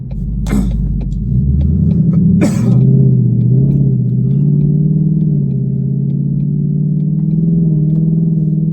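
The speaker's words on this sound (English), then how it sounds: "for those of you that want just a little extra rumble and a little more deep" Deep, throaty V8 exhaust rumble from a 2021 Mustang GT with Flowmaster Outlaw exhaust and X pipe, idling and revving nearby, a low burbling drone with a couple of sharp pops early on, steady and loud throughout.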